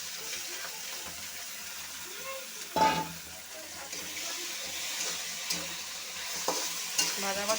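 Taro pieces stir-fried in a pan over sautéed onion and garlic, with a steady sizzle, scraping stirs and a sharper clatter near the start of the second half, plus a few utensil knocks.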